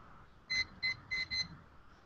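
A debate timer goes off with four short electronic beeps in a quick, evenly spaced series, moderately loud and near, over a low room murmur with no clear speech.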